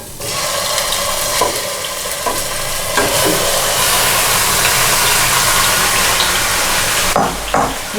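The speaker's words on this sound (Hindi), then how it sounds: "Now I am going to add these drum sticks." Chicken drumsticks hit two tablespoons of hot oil in a pot and sizzle loudly and steadily, a dense close crackle with occasional clinks of handling throughout.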